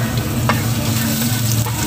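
Garlic sautés in reheated oil in the pan left from frying tilapia, a dense close sizzle with a couple of quick stirring scrapes, continuous and loud, no speech.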